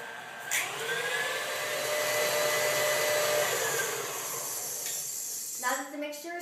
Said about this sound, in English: To cream is to turn the mixer on to high for about 2 to 3 minutes.